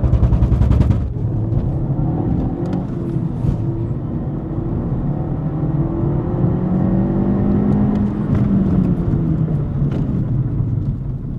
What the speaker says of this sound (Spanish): vamos a hacer lo que es una prueba de aceleración